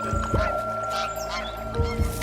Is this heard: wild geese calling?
yes